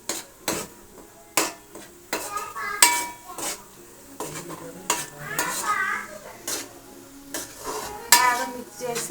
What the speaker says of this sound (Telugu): 3 స్పూన్స్ అల్లం పేస్ట్ వేసుకున్న తర్వాత మిక్స్ చేయాలి